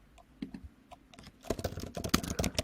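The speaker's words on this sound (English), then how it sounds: "I'm just going to type" Typing on a computer keyboard: a few sparse, quiet key taps, then a quicker, denser run of clicks, close up with no talking.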